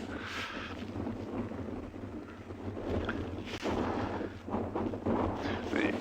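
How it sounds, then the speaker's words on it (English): Strong, cold wind buffeting the microphone during a morning safari in South Africa, a steady rumbling roar that gusts louder toward the end, with a voice speaking under it. "it is really breezy and really cold today"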